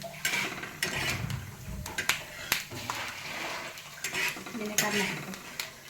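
Peanuts roast in oil in a pan while a spoon stirs them, giving repeated close scraping and clinking of metal on the pan over a soft frying background.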